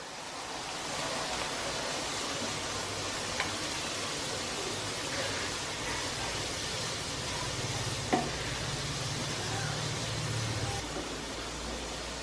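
Cooked mutton for Chettinad chukka sizzles steadily in a pan, a dense continuous hiss with an occasional light clack of stirring, close and even in loudness.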